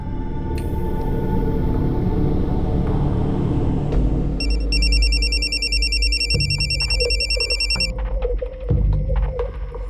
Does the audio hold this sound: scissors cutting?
no